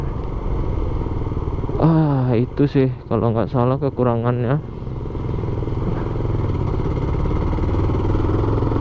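A Honda CBR 150 motorcycle riding through a village, its engine humming steadily and close by, with someone talking over it briefly before the engine noise continues alone.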